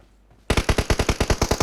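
Rapid automatic gunfire from a PUBG Mobile match bursts in after a brief quiet start, a loud, steady string of about a dozen evenly spaced shots.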